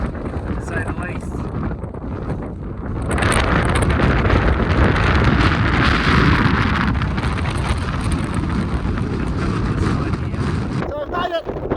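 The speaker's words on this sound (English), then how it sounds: "It's pretty windy." Strong gusts buffet the microphone on Whitehorn Pass, a mountain pass in New Zealand, with a loud roaring rush that swells and holds from about three seconds on. A voice speaks briefly at the start and the end.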